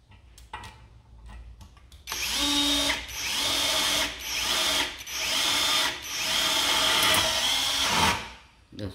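Chinese-made cordless screwdriver drill on a 21V battery drives a screw in several loud, sustained whirring bursts with brief pauses between them, heard close up with almost no talk.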